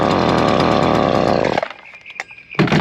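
A Stihl FS70R string trimmer engine, cold-started on choke, roars loudly for about a second and a half, then cuts out abruptly, with a brief pause of small mechanical sounds before it fires up again.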